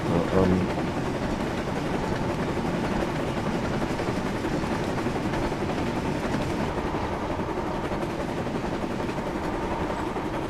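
Steady, loud mechanical drone from Gordon, a video game train engine running at full throttle, held at an even level throughout with no breaks.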